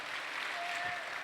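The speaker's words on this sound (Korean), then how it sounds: "박수 한번 주십시오" Dense, steady applause from a church congregation fills the brief moment, close and fairly loud.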